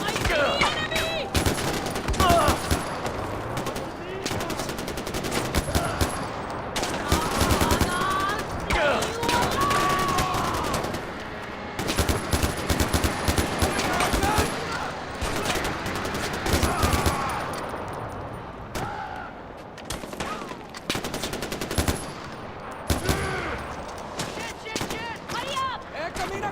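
Video game gunfire in Far Cry 4 crackles in dense bursts of rifle and automatic shots, loud and near, mixed with game music and effects while voices shout over the action.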